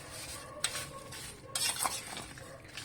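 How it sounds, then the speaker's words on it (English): Lemon pieces are mixed with salt and sugar for an instant homemade pickle, heard as a few quiet scraping stirs and soft clinks of a spoon in a bowl, with faint pauses between strokes. "mix it thoroughly so that it spreads evenly on all the pieces of lemon"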